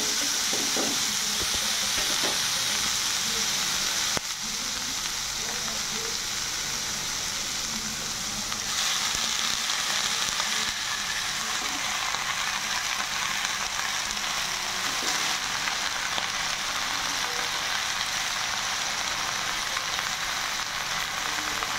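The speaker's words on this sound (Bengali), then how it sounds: "এখন লাই শাকগুলো দিয়ে দেবো।" Bottle gourd greens (lau shak) fry in a pan for a fish dish, giving a steady close sizzle and hiss with scattered stirring scrapes, briefly intensifying as the greens go in, with no talk.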